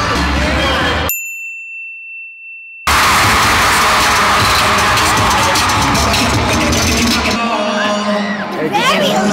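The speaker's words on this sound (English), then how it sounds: "Crowd is so loud." A sold-out basketball event crowd roars loudly and continuously with cheers and whoops, after a high bell-like ding and a moment of near silence at the start.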